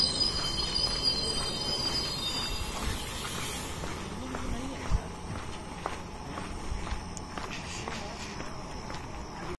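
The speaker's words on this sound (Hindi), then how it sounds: "यहां से ट्रेन निकल चुकी है सूरतकल रेलवे स्टेशन से।" Train 06602 Madgaon Special pulls out of Surathkal railway station with a steady rumble of rolling wagons, rhythmic wheel clacks and a thin high squeal, heard continuously from close by on board.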